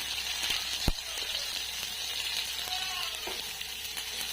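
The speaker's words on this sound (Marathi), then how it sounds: "आता कांदा आपल्याला चांगला भाजून घ्यायचा आहे" Onion fries with garlic, coconut and coriander in a pan over a wood-fired stove, a steady close sizzle with an occasional sharp click of a utensil against the pan.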